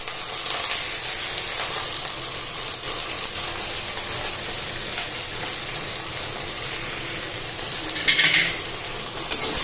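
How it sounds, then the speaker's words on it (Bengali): Onion and green chili sizzling in a hot pan, a continuous bright hiss of frying that is loud and close, with a brief burst of stronger spattering near the end and no talking. "তাই একটু পেঁয়াজ লঙ্কা এইভাবে ভাজি আমি"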